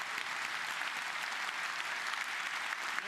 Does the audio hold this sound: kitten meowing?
no